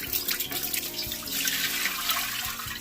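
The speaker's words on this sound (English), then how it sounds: "And this is filtered water." Filtered water pours steadily into a large pot, making a continuous bright, splashy rush of moderate loudness that runs without a break through the whole stretch.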